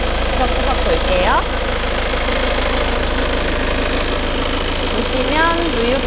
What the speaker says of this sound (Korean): 엔진 소리 일정합니다.